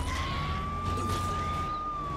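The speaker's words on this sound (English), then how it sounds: "Oh my gosh, we can use the sirens!" A steady electronic ambulance siren from the video game Dead Rising 4 wails continuously over a rumbling engine-like background, loud and unbroken throughout.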